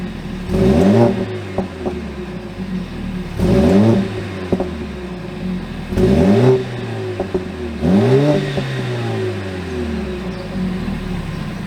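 A Mercedes-AMG engine in race mode blips four times at regular intervals, each rev rising sharply then falling back to idle, loud and close with a rumbling idle between.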